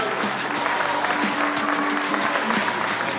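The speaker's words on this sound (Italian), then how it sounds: "Un applauso" Steady applause from a crowd, continuous clapping filling the room at a moderate level with no talking over it.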